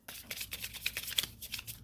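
Kipper card deck shuffled by hand, a quick run of soft riffling flutters and taps, close and fairly quiet, with no voices.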